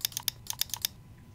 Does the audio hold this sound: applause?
no